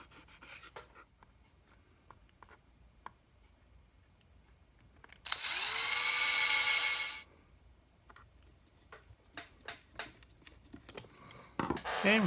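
A power drill drives a screw into a CNC control box in one loud, whining burst of about two seconds, surrounded by quiet handling clicks and taps up close.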